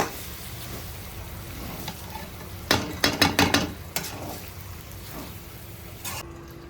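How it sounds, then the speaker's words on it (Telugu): Chilli-coated cucumber pieces are stirred in a pan for a Telugu curry, with faint sizzling, then a quick cluster of scraping, clattering spoon strokes against the pan, and a few soft knocks afterwards. "ఈ కారం ముక్కలు అన్నిటికీ పట్టేలాగా కలిపేసుకుందాము"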